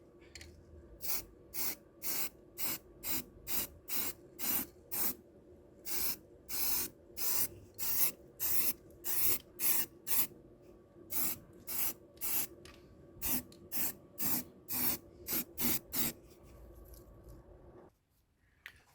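Aerosol spray paint going onto a rusty, sanded Citroen Xsara Picasso car spare wheel: around thirty short hissing bursts in a quick, fairly even rhythm, close and clear, with a quiet stretch at the end.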